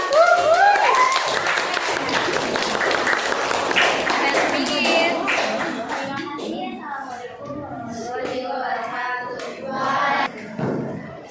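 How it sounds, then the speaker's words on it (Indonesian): Classroom clapping from a group of children, busy and overlapping, with voices talking and chattering through it. "Silakan tepuk tangan untuk kelompoknya."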